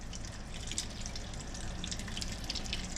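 Tap water running into a bowl, a steady close rushing splash that continues without pause, no voices.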